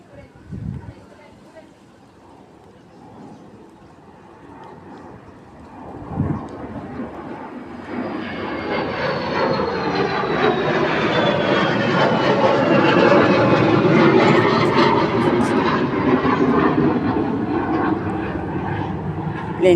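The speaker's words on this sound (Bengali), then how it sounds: "প্লেন যাচ্ছে আমাদের এয়ারপোর্ট থেকে কাছে তো গাজীপুর" An airplane passes overhead near an airport in Gazipur, its engine roar swelling from a faint hum into a loud, sustained rumble that fills the second half. A person talks early on.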